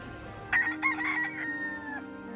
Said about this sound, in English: And then there are those free-roaming feral chickens